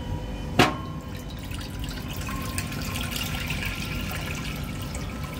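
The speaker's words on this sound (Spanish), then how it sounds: "Bueno, primero ponemos el agua." Water poured into a pot for a traditional Granada stew, a brief splashing onset followed by a steady, close running-water trickle that continues alone throughout.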